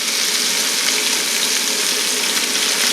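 Swedish meatballs fry in a pan, a dense, loud, even sizzle close up with no breaks or voices.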